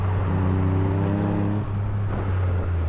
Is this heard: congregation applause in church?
no